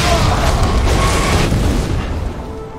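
Booming bursts of fire shot by enemies in the Lies of P action game, a loud blast that fades over a couple of seconds with little else over it.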